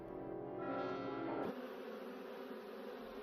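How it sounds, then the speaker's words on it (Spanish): A bee's steady, droning buzz close by, continuous and unbroken, with a slight shift in pitch partway through. "El zumbido de una abeja tiene unos 30 hercios"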